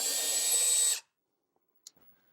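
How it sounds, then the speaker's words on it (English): A power drill whirs for about one second while unscrewing a WrestleFest game board from a Sega arcade machine, then cuts off abruptly into near silence broken by a couple of faint clicks. "I will grab my power drill here and unscrew WrestleFest from the board."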